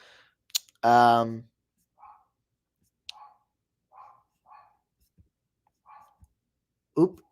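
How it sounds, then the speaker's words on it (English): A small dog barks several times in the background, short faint yips spread out, with one louder vocal burst near the start and another at the end. "I hope you hear Mia barking in the background."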